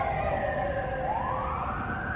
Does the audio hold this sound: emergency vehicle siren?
yes